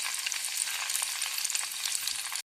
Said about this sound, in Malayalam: ഒരു ചട്ടി എടുത്ത് എണ്ണ ഒഴിച്ച് തിളച്ച ശേഷം കടുകിട്ട്